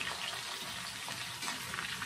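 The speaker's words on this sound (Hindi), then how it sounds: "सभी को एक साथ अच्छे से फ्राई कर लेंगे" Chicken 65 pieces deep-frying in oil for a second time to crisp them, producing a dense, continuous bubbling hiss at moderate volume.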